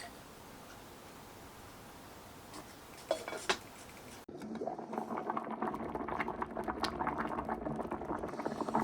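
Rice in salted water bubbles and hisses on a heat source in a kettle, quiet at first with a couple of clinks, then a steadier rolling boil grows louder.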